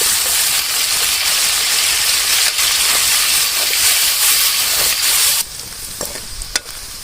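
Beef fat frying in oil in a pot for beef bhuna, a steady loud sizzle with stirring scrapes throughout, the frying hiss dropping abruptly near the end as the pan quiets and a few sharp clinks follow.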